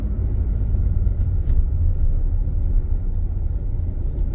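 A car engine revs up as the clutch is released during a street driving lesson, a steady loud low rumble that holds for the whole stretch with no talk over it.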